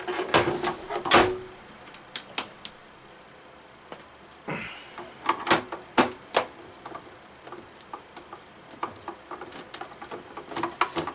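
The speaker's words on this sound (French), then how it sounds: "On dévisse les 6 vis en question." A screwdriver works the six screws out from the underside of a NES console, making scattered sharp ticks and clicks at an irregular pace. Close and fairly quiet, with small handling knocks between them and no talking.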